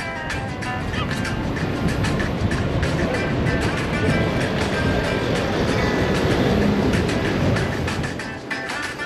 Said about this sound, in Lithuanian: Nu, vėjas didelis,